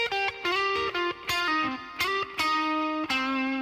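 Electric guitar with distortion and effects plays a lick of sustained single notes with sharp attacks and short gaps, loud and close, with no voices.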